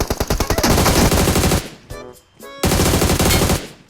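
Automatic gunfire from the video game PUBG Mobile rattles in rapid, loud bursts, stopping briefly before another fast burst resumes.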